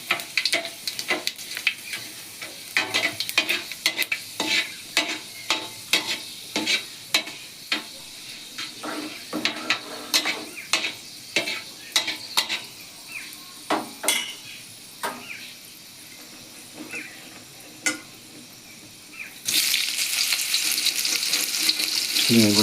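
Panch phoron spices crackle in hot oil while being stirred, a steady frying hiss broken by repeated scraping strokes of a spoon in the pan, with a louder, denser sizzle near the end.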